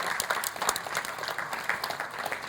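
A church congregation at a Lent service claps together in a quick, rhythmic beat, the many hands close and steady throughout.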